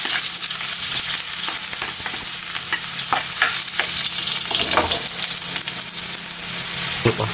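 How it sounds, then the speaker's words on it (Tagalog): Chopped onions sautéing in a hot pan for maya-maya fish soup, a steady close sizzle broken by scraping stirs. "lagay na natin yung sibuyas natin. Mas mabango kasi ito pag nakalagay yung nakagisa yung mga sangkap."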